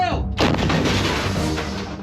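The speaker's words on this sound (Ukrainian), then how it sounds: "Постріл!" A single loud Ukrainian artillery gun blast near Bakhmut booms close by, followed by a rolling, rumbling echo that slowly fades.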